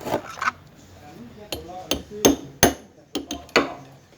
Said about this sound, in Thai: ตอกใส่นี่พี่น้องนะตอกใส่